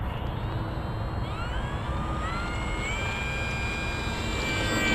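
An FMS Maule 1500mm STOL RC model airplane flies overhead, its electric motor a steady whine that rises and shifts in pitch against continuous broadband outdoor noise.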